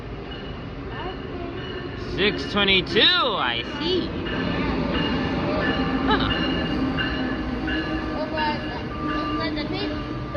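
An Amtrak train rumbles through New Carrollton station, a steady loud rolling drone with brief high squeals of wheels and brakes, and someone speaks a few words over it.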